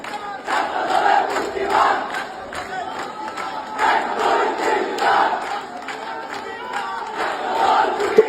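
A large crowd of students chants slogans in unison at a street protest, rhythmic bursts of shouted phrases repeating every second or so, loud and slightly distant, with no separate speaker on top.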